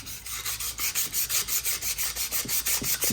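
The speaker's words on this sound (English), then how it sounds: "lightly sanding this with 220." Sandpaper of 220 grit is rubbed lightly over a part of an old Delta Rockwell lathe in quick, even back-and-forth strokes, a close rhythmic rasping that repeats about five times per second.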